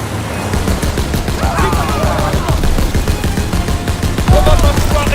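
Rapid machine gun fire from a mounted gun on a jeep in the World War II shooter Call of Duty: WWII, a loud, dense, continuous rattle with engine rumble and battle noise throughout.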